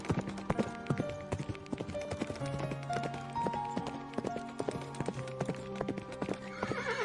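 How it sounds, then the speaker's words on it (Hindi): Horse hooves clip-clop steadily as a rider heads toward a forest, a rhythmic trotting patter with a horse's neigh, layered over soft music with no talk. "घोड़े के ऊपर सवार होकर उस जंगल की ओर निकल पड़ता है"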